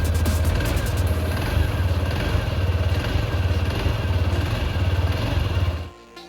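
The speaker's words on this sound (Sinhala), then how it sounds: "බයික් එක ස්ටාර්ට් කරා මෙන්න මේ වගේ සවුන්ඩ් එකක් තමයි එන්නේ" A TVS Sport 110 motorcycle engine starts and settles into a steady, throbbing idle with an even low putter, close and loud, before cutting off near the end.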